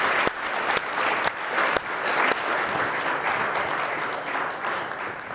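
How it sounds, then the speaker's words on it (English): An auditorium audience at a live talk event gives sustained, even applause, a dense wash of many hands clapping with no pauses. "don't you think that Susan and David deserve a huge round of applause for what they accomplished?"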